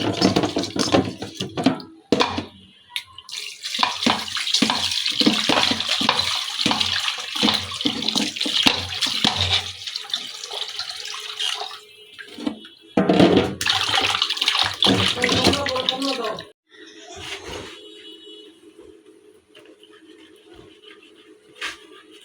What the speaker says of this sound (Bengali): এই যে পাবদা মাছগুলো লবণ দিয়ে আমি ধুয়ে নিতেছি